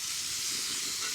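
A steak on a LavaBox camp stove hisses steadily in a hot pan as it is turned over, a continuous close, broad sizzle with no talk.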